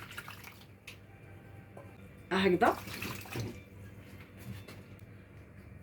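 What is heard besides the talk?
warm water being poured for bread dough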